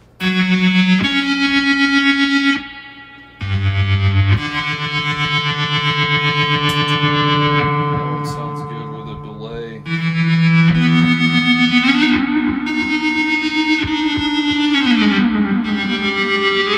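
The fuzz bass preset of an Electro-Harmonix Micro Synth analog guitar synthesizer plays a run of thick, distorted, buzzing notes that shift in pitch, some sliding and swelling, with heavy effects colouring the tone and no talking over it.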